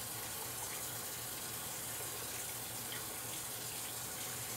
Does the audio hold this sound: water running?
yes